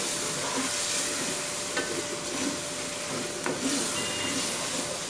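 Minced meat frying on high flame for keema biryani, a dense, steady loud sizzle with a few faint scrapes of a spoon stirring the pan, close up throughout.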